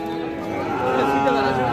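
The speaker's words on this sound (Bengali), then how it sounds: "খুবই সুন্দর একটা ষাঁড় বাছুর।" A Sahiwal bull calf at a rural cattle market gives one drawn-out, nasal moo that swells and peaks near the end, close and fairly loud over faint market background.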